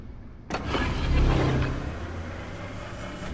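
Engine boost on a sleek, agile warship in World of Warships: a sudden surge at the start swells into a loud low mechanical roar, then eases into a steady hum.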